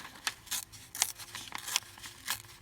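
Paper envelope being ripped apart by hand into scraps for junk journaling, a series of short, sharp tearing bursts at irregular intervals, close up with no talking.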